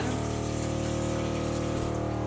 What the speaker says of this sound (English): I'm going to put a little bit of water in the bottom of my pan